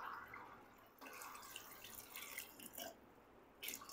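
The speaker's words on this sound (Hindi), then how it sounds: "अब इसमें पानी डाल देंगे।" Water splashes and trickles in short bursts, pouring close by into a metal pressure cooker holding chickpeas, with a bright, splashy sound and brief pauses between pours.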